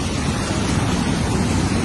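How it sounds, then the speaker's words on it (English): Storm surge waves driven by Hurricane Erick's winds crash onto the Oaxaca shore, a loud, dense, continuous roar of surf and wind without speech. "Waves as high as 20 feet, 6 meters, crashed onto the shore"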